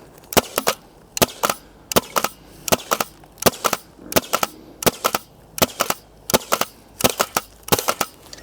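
Ten sharp shots from a Sabre Abraham Nova HPA Nerf blaster fired at a 45-degree angle outdoors, loud close pops in a quick uneven rhythm, mostly in pairs, with brief gaps between.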